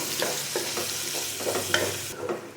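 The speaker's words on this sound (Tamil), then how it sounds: "நம்ம வந்து இதெல்லாம் நல்லா வந்து வெங்காயம் வந்து வதங்கி வரணும்" Onions sautéing in a pan for a drumstick curry, a close continuous sizzle broken by several scraping stirs, the frying dropping slightly near the end.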